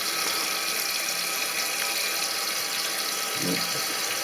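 A toilet cistern refills with water in a steady, continuous hiss of flowing water. A brief low thump sounds near the end.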